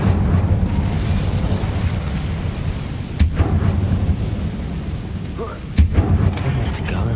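Incendio fire spell cast in Hogwarts Legacy, a rumbling whoosh of flame bed with sharp bursts and booms, loud and continuous.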